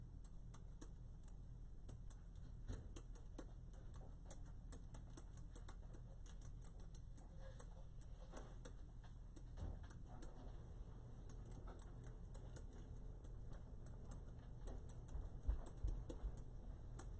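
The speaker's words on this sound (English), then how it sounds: "almost done typing" Someone typing on a keyboard in a home craft setting, faint, quick, irregular clicks and taps continuing steadily over a low background hum, with no talk.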